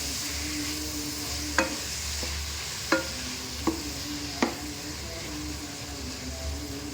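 Onions roast in a pan for a spiced okra curry, a soft continuous sizzle with a low hum beneath, broken by four sharp spoon taps and scrapes against the pan.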